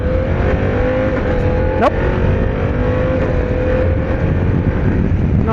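A Harley-Davidson Pan America ST motorcycle under way, its engine a loud steady drone close to the rider, with a brief rev blip as gears are clutched through. A voice speaks briefly over it.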